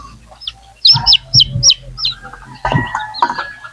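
Newly hatched chicks peep in a quick run of high, thin chirps, close and clear, followed by a few louder overlapping calls.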